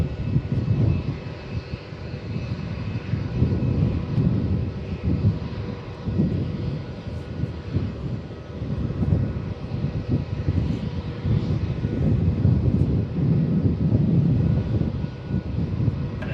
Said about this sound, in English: got traffic landing on runway 16